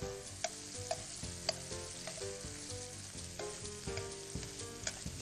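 Rice frying in a pan over very low heat, a close, continuous crackling sizzle dotted with small pops and occasional stirring scrapes, with no speech.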